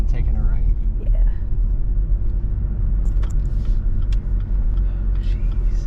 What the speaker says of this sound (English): Hold on, listen to the downshifts.